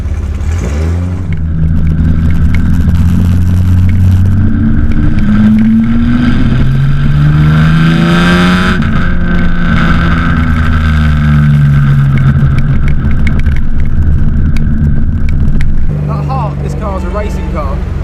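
A Salvadori Jaguar XK120 classic open-top car cruising through London streets, its engine droning steadily and rising and falling with throttle as it pulls along, while people talk over it from inside the car.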